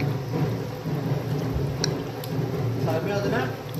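Steady rain pours outdoors while low thunder rumbles through, a dense continuous wash of sound with voices faintly present beneath it.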